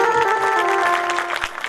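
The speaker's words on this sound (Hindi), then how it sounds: "ताली बजा" A short burst of audience clapping at a live rural folk comedy performance in Charama, Kanker, heard under a sustained tonal musical drone.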